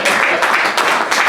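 An audience applauds at a Nigeria–Italy business and investment forum in 2023, a dense, loud burst of many hands clapping that fills the short moment, with no speech over it.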